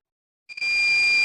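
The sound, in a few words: continuity tester beeping when two wires are shorted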